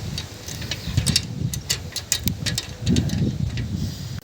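Steady gusting wind buffets the microphone with low rumbling roar and scattered ticks and clicks, continuous throughout with no voices.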